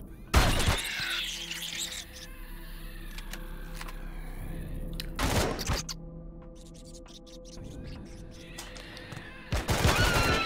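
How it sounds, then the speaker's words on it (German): Bursts of rapid automatic gunfire from the video game Empyrion ring out three times, separated by quieter stretches with faint mechanical hums and clicks. "Ist schon wieder 1000 Schuss von der Muni verballert."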